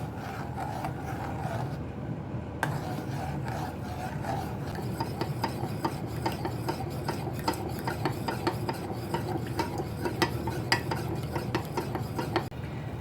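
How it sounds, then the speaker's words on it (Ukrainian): Steady scraping and swishing of a spoon stirring milk in a metal pot, continuous and close, with occasional clinks against the sides. "Інтенсивно мішаю і тоненькою струйкою вливаю розбовтаний крахмаль"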